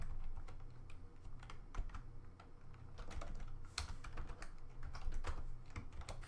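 Code being typed on a computer keyboard, with steady clicking keystrokes in quick irregular bursts over a low background hum, close and clear throughout.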